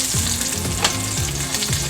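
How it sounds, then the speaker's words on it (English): A pork chop searing in a frying pan, giving a loud, close, continuous sizzle with a brief crackle partway through. "A little sear on it."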